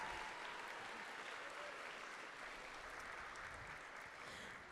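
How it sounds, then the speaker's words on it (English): Steady crowd applause at a miniature painting awards ceremony at ReaperCon 2024, a faint, even wash of many hands clapping with no distinct individual claps, continuous for several seconds. "get a round of applause in there"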